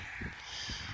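Crows caw in a February garden, two harsh calls spaced about half a second apart, moderately distant over steady outdoor background noise.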